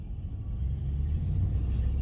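A truck rolling along a road in winter, a steady low rumble that holds evenly and swells slightly toward the end, with no voices over it.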